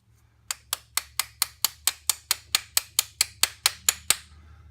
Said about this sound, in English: you may have to tap the back side of the pin a little bit with a hammer just to finish it off